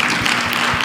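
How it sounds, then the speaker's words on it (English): Applause for medical workers from an audience, a dense, steady patter of many hands clapping at close range for just under a second. "Let's clap for the medical workers one more time."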